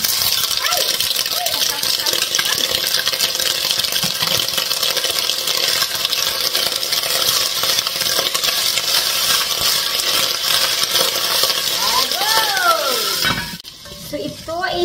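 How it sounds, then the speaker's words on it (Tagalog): Potatoes frying in hot cooking oil make a steady, loud sizzle that fills the whole stretch, with brief stirring and clatter near the end and a moment where the hiss drops away. "Prito muna natin ng konti ang ating patatas."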